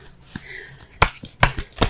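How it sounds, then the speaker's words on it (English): Tarot cards are shuffled and pulled, with soft riffling followed by several sharp slaps and flicks as cards are laid down, close and distinct, with a voice faintly present. "let's go ahead and pull some cards here"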